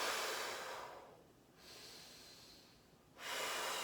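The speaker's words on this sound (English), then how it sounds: "we'll do 3 breaths at the top of the rotation, and on every exhale, we'll go further into the rotation" Slow, deep breaths taken during a spinal rotation stretch: a long airy exhale, a quieter pause, then another strong breath, close and clearly audible.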